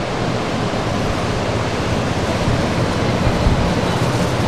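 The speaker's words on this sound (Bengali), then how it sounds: "সুবিশাল সমুদ্র, বিরাট জলরাশি" The sea at Puri, heard from a sea-facing hotel balcony: surf makes a dense, unbroken roar that stays steady and loud throughout, with no voices.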